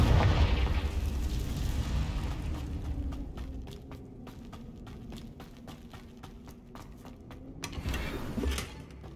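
A Confringo spell blast in Hogwarts Legacy, a muffled boom at the start that fades into crackling debris and scattered pops, with a second rumbling swell near the end.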